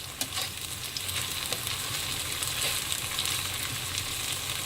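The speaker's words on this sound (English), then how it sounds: "now let the sambal cook well with the onions" Sambal and onions sizzle steadily in a hot pan, a dense, continuous crackle with small spitting pops throughout, close and alone with no talk.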